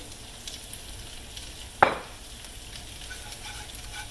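Flour browning in hot oil in a frying pan for a country breakfast, with a steady, close sizzle throughout and one brief scrape of a utensil partway through.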